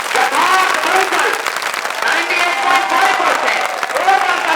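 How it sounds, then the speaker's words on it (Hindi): An audience at a school results ceremony applauds loudly and continuously, with dense clapping filling a hall. "एक बार जोरदार तालियों के साथ बुलाना चाहेंगे।"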